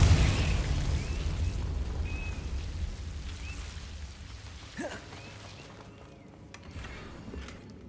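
A Confringo blasting spell from the video game Hogwarts Legacy lands as a loud, rumbling burst at the start and slowly fades into a low, crackling roar, followed by quieter scattered magical swishes.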